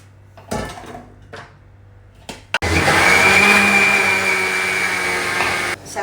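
An electric mixer grinder jar grinds rice with hot melted jaggery for unniyappam batter, a loud, steady whirring roar that starts abruptly after a few soft clinks and knocks.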